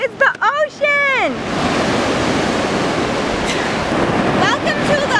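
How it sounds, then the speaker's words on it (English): Ocean surf at a beach rolls in as a steady, loud broadband roar with a gusty, windy edge, following a brief burst of people talking at the very start. "Oh my god, it's the ocean!"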